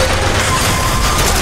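A Bioshock Infinite turret firing, a continuous loud, dense rattle of rapid shots running through the whole short burst.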